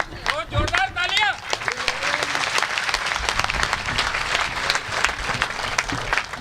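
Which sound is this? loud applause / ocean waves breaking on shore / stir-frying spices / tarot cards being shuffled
loud applause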